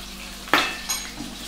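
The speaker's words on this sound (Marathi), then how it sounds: "मस्त तडका बसलेला आहे सगळ्या गोष्टींना" Chillies and green cardamom hit hot oil in a large pot of veg pulao, giving a sudden loud sizzle burst that fades, then a second smaller crackle, with clinks of a utensil and no talk.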